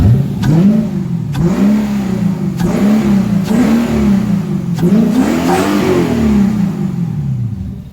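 An Infiniti M56x V8 revs up on its first start, swelling and falling in repeated throaty blips over a steady low engine rumble, close and loud with no voices.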